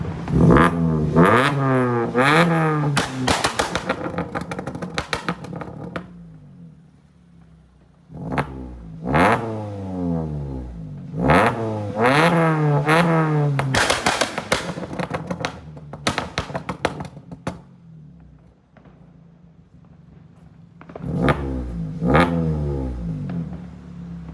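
A modified Maruti Suzuki Ciaz on its second tune revs hard and close, with repeated sharp throttle blips rising and falling, sputtering crackles between bursts, and a quieter idle gap midway.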